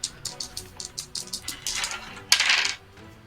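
Tabletop game dice clattering on a hard surface, a quick run of close rattling clicks followed by a brighter tumbling burst, with no voices.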